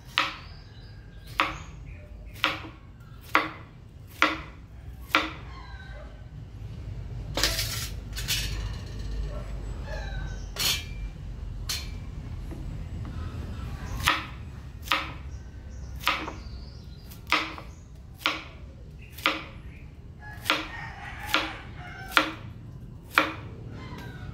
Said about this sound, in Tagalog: i-slice na natin yung ampalaya natin